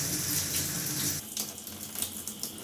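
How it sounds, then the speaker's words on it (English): Water runs steadily from a chrome LED waterfall bathroom faucet into a basin, a loud continuous hiss that softens and turns splashy as the flow changes partway. "There's your hot water. Here's your cold water."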